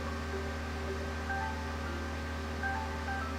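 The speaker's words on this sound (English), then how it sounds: "Bro, my alarm is going off." A phone alarm rings on and on with steady electronic tones, a constant hum beneath, loud and near with no pause.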